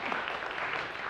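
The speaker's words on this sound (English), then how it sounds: "Let's give her a little applause." A short burst of steady applause from a small crowd at a piano recital, even and moderately loud.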